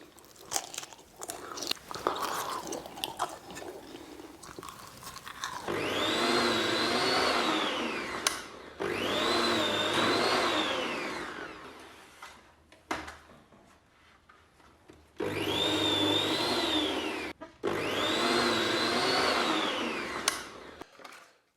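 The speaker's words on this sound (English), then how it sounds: "so I've sliced the bacon, and the impressions of this machine is that it's way too small and not that user-friendly" Small electric meat slicing machine cutting bacon from a home-butchered pig, several loud whirring runs of a few seconds each with short pauses between, preceded by faint clatter and handling noises.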